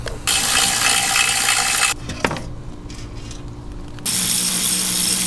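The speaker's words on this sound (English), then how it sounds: "Got a couple more bolts on this pan," A ratchet wrench backs out the remaining bolts on the transmission pan of a blown-up 8HP90 transmission from a Hellcat, giving bursts of rapid metallic clicking with a short sharp clink between them, close and fairly loud.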